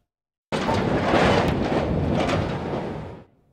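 A Casey's gas station and convenience store building in Marshall, Illinois being torn down, a sudden loud rumbling crash that roars steadily for nearly three seconds and then fades, no voices.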